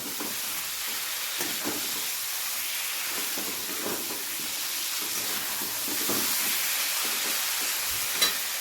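Cabbage with fish head and spices sautéing in a pan, a steady close hiss and sizzle broken by soft scraping stir strokes, alone without talk.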